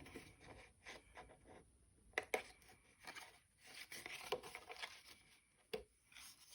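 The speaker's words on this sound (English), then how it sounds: "And cut that tab out." Scissors snip through a paper favor box tab in a few soft, scattered cuts, with faint rustling and handling of the paper between snips, close and quiet, no talking.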